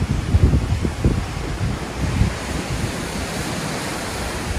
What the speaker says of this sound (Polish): Ten szum morza, kojący uszy